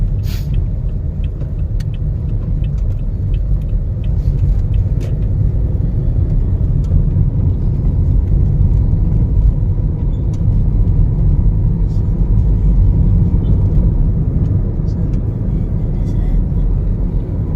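Steady low road rumble and engine drone fill a moving car from inside, continuous and fairly loud, with occasional small knocks as the vehicle jolts on a road in the Philippines.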